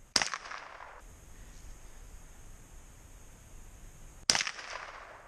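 Two sharp gunshots fired at milk jugs outdoors, one at the start and another about four seconds later, each a loud crack with a brief decaying tail over faint background hiss.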